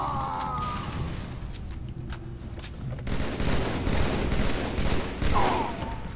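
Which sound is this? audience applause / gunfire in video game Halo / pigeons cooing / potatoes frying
gunfire in video game Halo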